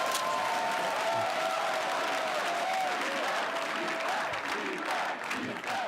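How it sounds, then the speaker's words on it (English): Raucous crowd at a Conservative leadership debate applauding the candidates: sustained, dense clapping with scattered cheers, loud and steady throughout. "It's a bit of a raucous crowd."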